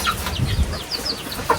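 Chickens clucking close by on a farm, a busy overlapping chatter of short clucks and calls over steady background noise, with no talking.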